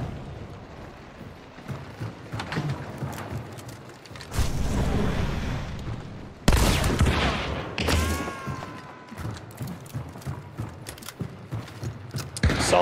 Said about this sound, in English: Solid reload, safe reload.